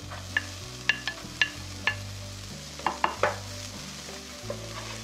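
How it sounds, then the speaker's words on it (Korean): Onion, mushrooms and bell pepper stir-fried in a pan for a Spanish omelette: soft steady sizzle punctuated by about eight sharp utensil clicks and scrapes against the pan, close up and without voices. "다음으로 버섯과 피망을 넣고 볶아주세요."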